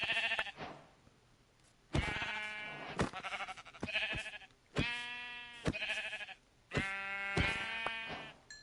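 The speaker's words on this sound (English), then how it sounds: "Sheep, I'm sorry," Minecraft sheep bleat again and again, a string of short nasal baas with gaps of quiet between them, some cries stretched longer, clear and close with no talk over them.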